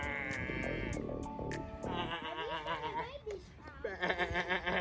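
A small lamb bleats several times close by, its wavering cries repeating alongside people talking and chuckling nearby.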